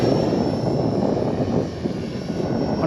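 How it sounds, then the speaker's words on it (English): A scale RC model helicopter flies close by outdoors on a breezy day, its rotor and motor giving a loud, steady, unbroken whine and roar. "you can really chuck this helicopter around"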